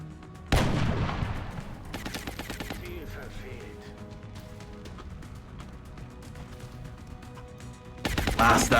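Gunfire in the video game Long War: a loud opening shot, then scattered crackling bursts and impacts under low game ambience, and a second heavy blast near the end.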